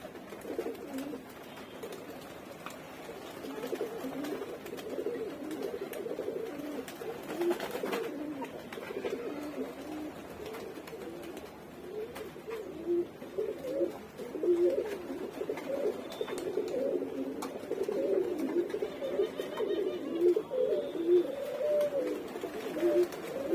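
A flock of pigeons settles back down after a group flight, with continuous low cooing from many birds filling the background and a faint outdoor hum beneath.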